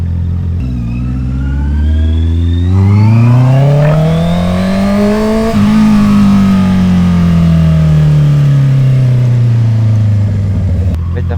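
A sport motorcycle on a service road revs under throttle, the engine pitch climbing sharply, holding, then easing down in a long falling sweep, loud and close.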